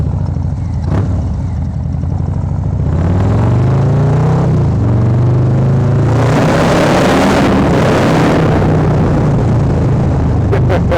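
A Harley-Davidson motorcycle with a 131 engine runs loud and close, a deep steady rumble that rises as it revs and then settles back, with no talk over it.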